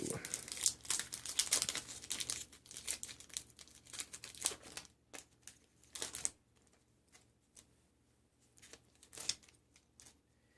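Crinkly plastic wrapper of a Born of the Gods trading card booster pack being torn open and crumpled, dense close rustling for about six seconds, then quieter sparse crinkles.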